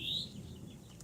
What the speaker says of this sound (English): That bird is a real chatty Cathy, ain't he?